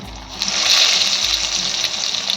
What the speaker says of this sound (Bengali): দিয়ে আলুগুলো আমি তেলে ছেড়ে দেবো